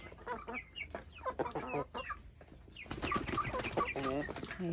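Chickens cluck in short, busy bursts close by, the chattering growing denser and a little louder toward the end, with no voices.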